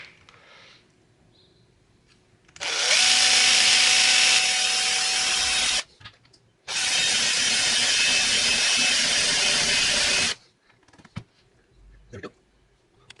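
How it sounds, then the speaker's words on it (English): A power drill bores a 10 mm hole in the cap of a Jack Daniel's bottle in two loud, sustained whining bursts of about three and four seconds, separated by a brief pause, with quiet handling noises around them. "now I'm going to drill a 10 mm hole in the cap"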